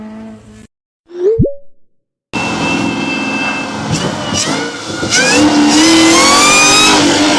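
A supercharged Corvette ZR1 V8 roars loudly through rising revs, a high supercharger whine climbing in pitch above the engine, after a brief pop and pause at the start.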